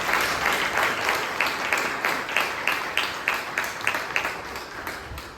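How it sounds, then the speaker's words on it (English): Applause fills a Toastmasters club meeting, many hands clapping in a brisk, slightly pulsing rhythm that stays moderately loud and even for the whole stretch. "please give them a huge round of applause"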